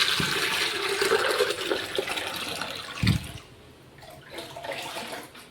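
Water gushes out of a pot in a loud splashing stream that drops off sharply after a brief surge, followed by quieter trickling, with no voices.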